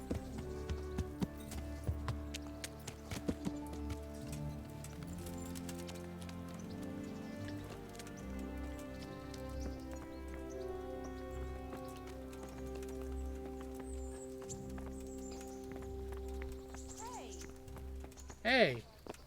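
Horse hooves clip-clop in a steady rhythm in Kingdom Come: Deliverance, moderately faint under game music and ambient tones, with a brief louder burst near the end.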